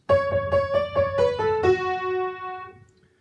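A piano plays a short descending phrase from the melody of a song: repeated notes, then a few stepping lower, with the last note left ringing and fading.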